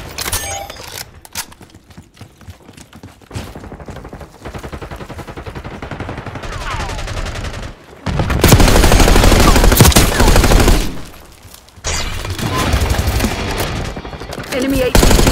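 Automatic gunfire rattles through a Call of Duty: Black Ops 6 firefight, quieter scattered shots giving way to loud, dense bursts around the midpoint and again near the end, with brief lulls between.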